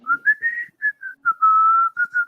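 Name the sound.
imitated whistling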